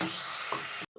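Dried red chillies and curry leaves sauté in hot oil for rasam, a loud close sizzle that cuts off abruptly near the end before a softer hiss resumes.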